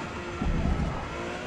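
Porsche 911 GT3 racing at Suzuka in the Forza Motorsport game, its engine droning steadily and swelling briefly in a short rev before settling back, with no talk.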